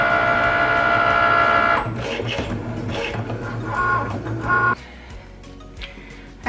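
A cutting machine runs a rotary blade through fabric, whirring with a steady motor hum that breaks into shifting mechanical buzzes and movements before it quiets.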